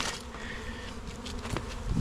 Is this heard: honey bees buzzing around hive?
yes